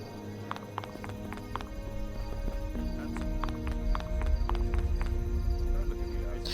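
Horse hooves clip-clop in a quick steady rhythm in the video game Sacred Reborn, over a continuous low rumble and background game music, the footfalls clear and close throughout.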